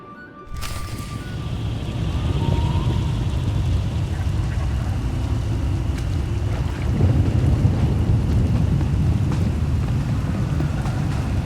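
Steady rain and wind during a thunderstorm in Star Wars: The Old Republic, with a broad constant wash and low rumbling underneath. No voices are heard.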